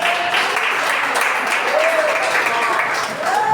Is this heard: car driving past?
no